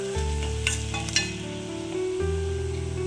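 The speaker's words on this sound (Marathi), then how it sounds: "जेव्हा आपला कांदा लालसर झाला तेव्हा त्याच्यामध्ये आपण बटाटे टाकतो" Potatoes and onions fry in a pan with a steady close sizzle, joined by brief scraping stirs, and no talking.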